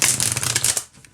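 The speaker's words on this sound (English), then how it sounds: "Yeah, they shuffle just fine." A deck of 66 tarot cards being shuffled, one quick riffling burst of card flicks lasting under a second, close and crisp before dropping to near silence.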